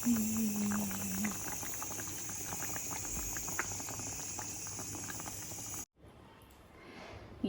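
Punugulu pulusu bubbles steadily in a pot, a dense, continuous boiling patter with a constant tone overhead. It cuts off abruptly near the end, then faint sounds follow.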